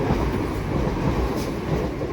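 A Class 168 diesel train rumbles through High Wycombe station in a loud, steady, continuous roar of engine and wheels, close and without pauses, with no one talking over it.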